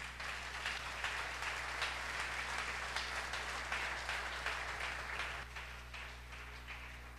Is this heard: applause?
yes